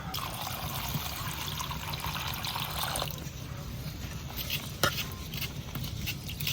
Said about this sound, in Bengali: দেখো কত সুন্দর চালে, এই চালে খিচুড়ি রান্না আজকে। তাই তো ধুয়ে নেই।